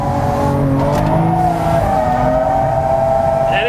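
A Hyundai Genesis Coupe drifting, engine held at high revs in a steady loud drone with shifting pitch, tires squealing continuously underneath as the car slides sideways.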